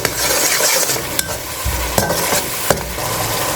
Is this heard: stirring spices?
yes